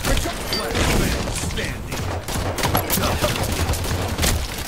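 Continuous heavy gunfire in a Halo 5 multiplayer match, loud and dense with overlapping shots and impacts, and game sounds filling the whole stretch.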